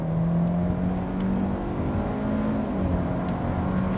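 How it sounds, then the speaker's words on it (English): A 2021 Hyundai Elantra in sport mode accelerates at full throttle, heard from inside as a steady engine drone that climbs gradually in pitch over road noise. "So let's put the car into sports and full throttle."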